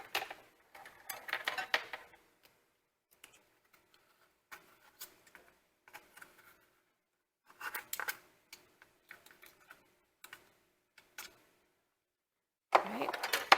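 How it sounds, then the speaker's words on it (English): A spatula scrapes and clatters against a baking pan while prying out a dense keto nut and seed bread, in short intermittent bursts separated by near-silent pauses, with a voice briefly audible. "Just using my little spatula here to get this out."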